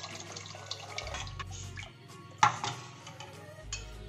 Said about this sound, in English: I added around 2 liters of water into my pan